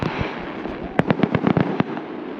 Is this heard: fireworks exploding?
yes